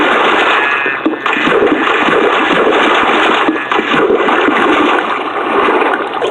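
Water rushes in as blocks are broken in a video game, a loud, steady gushing and gurgling fill that continues unbroken with only brief dips, and no voices alongside it.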